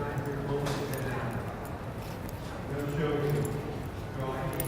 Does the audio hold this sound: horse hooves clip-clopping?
yes